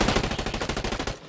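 Automatic gunfire from the video game Ghost Recon Breakpoint rattles out in a fast, continuous burst of about fifteen loud, close shots before cutting off abruptly.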